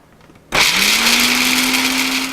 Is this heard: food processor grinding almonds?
yes